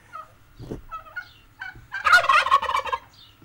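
A turkey gobbles loudly and close by, a burst of rapid rattling calls preceded by a few shorter clucks and gobbles, with no talking.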